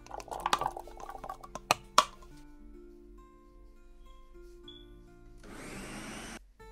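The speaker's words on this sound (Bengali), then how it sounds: "এবার একটি ব্লেন্ডারে নিয়ে মিহি করে ব্লেন্ড করে নিব" A kitchen blender purees tomatoes into a fine paste. A loud, steady motor whir runs for about a second near the end. Before it come scattered clinks and knocks, then a quiet stretch with a faint hum.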